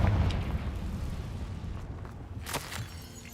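A Confringo spell blast in the Hogwarts Legacy video game, a deep booming burst at the start that rumbles away, then a couple of quieter crackling pops.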